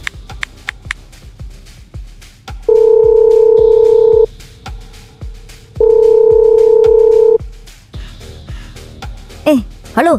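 A telephone in an animated cartoon gives a series of short keypad beeps, then two long steady tones with a gap between them, loud and close, with brief voice-like sounds at the end.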